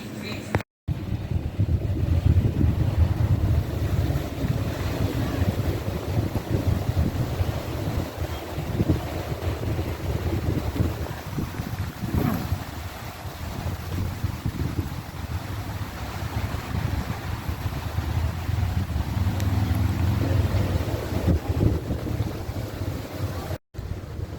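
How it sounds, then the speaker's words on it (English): Strong wind at the beach roars steadily across the microphone for the whole stretch, with a low rumbling gust noise and surf-like wash behind it. "it's actually just a little bit too windy to set up"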